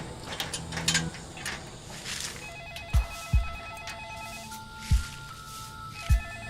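A telephone rings indoors with a repeating electronic ring pattern that carries on for several seconds, joined by a few dull thumps and light clatter nearby.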